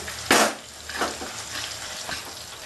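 Boneless chicken pakora fries in a pan of oil with a soft, low sizzle, broken by a sharp splash or clatter near the start and a few lighter bursts after it, all close and quiet.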